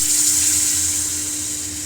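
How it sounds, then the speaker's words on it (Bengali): Water is poured into a pan of fried potatoes for a vegetarian Bengali potato dish, producing a loud, steady rushing wash that eases slightly toward the end. "এবার আমি পরিমাণ মতো জল দিয়ে দেব।"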